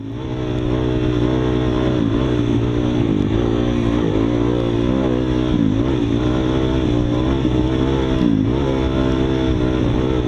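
Dirt bike engine during an off-road race lap at Horn Rapids Motorsports Park, a steady loud drone close up with rising and falling revs as the rider shifts gears.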